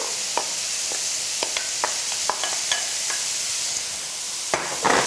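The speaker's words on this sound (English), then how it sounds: "Now we just fry that up till the onion starts to soften." Onion and mushroom fry in a pan with speck, a steady close sizzle broken by sharp clicks and scrapes of stirring, and no one speaking.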